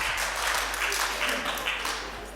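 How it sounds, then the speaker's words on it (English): Round of applause at a church fireworks service, a brief, loud burst of clapping with a low hum underneath and voices mixed in. "give a round of applause"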